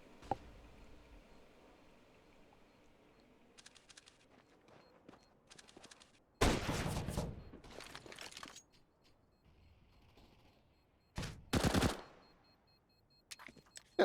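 Bursts of rapid MAC-10 submachine gun fire during a competitive Counter-Strike match on dust2, two loud sustained volleys with a few shorter scattered shots between quieter stretches.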